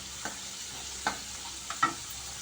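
Potato french fries frying in oil over a low flame, a steady soft sizzle with a few brief stirring scrapes spaced through it, fairly quiet and close with no voices.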